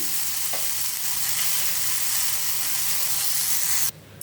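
Steady, dense sizzling of lentils dry-roasting in a hot pan, close and continuous, cutting off abruptly near the end.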